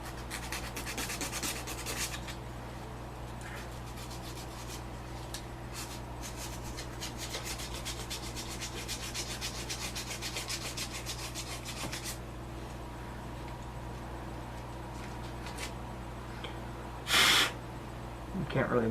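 Wooden leg of a salvaged ottoman being hand-sanded with sanding strips, making a steady, close, scratchy rubbing that carries on without pause, then gives way to brief handling noises near the end while a person talks.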